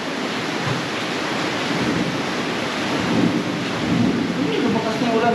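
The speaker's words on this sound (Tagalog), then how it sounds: "Lumakas na ulan." Heavy rain pours down steadily with low rumbles of thunder rolling underneath, a dense, continuous wash of sound with no talking.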